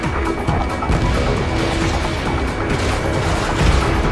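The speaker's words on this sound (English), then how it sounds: "gunfire and the roar of jets echoing through the streets" A dense, continuous barrage of Ace Combat 7 gunfire and rumbling explosions with jet roar, loud and chaotic with no pauses.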